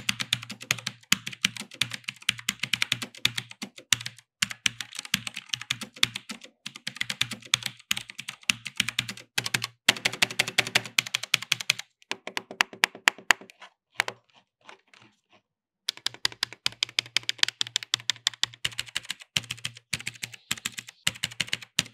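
Typing test on an Altec Lansing ALGK8614WG mechanical keyboard with Blue switches: rapid, crisp clicky keystrokes in steady bursts, with a brief pause near the middle before the typing resumes, close and alone.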